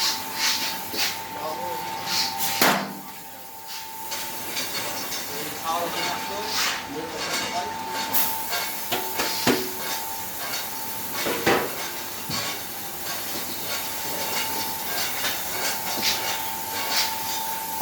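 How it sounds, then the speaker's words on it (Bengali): A six-kadai puffed rice (muri) roasting machine, rated at 250 kg an hour, runs with a steady mechanical hum, metallic clatter and rattle, and constant hissing, with voices audible over it. "6 কড়াইয়ে চাল গরম হবে এবং রোস্টারে মুড়ি ভাজা হবে"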